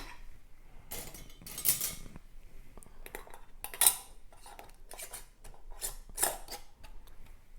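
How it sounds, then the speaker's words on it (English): A metal ring screwed onto a glass mason jar packed with mandarins gives a few sparse, sharp metallic clinks and scrapes, quiet and close, separated by short pauses. "Place the ring on, finger tight."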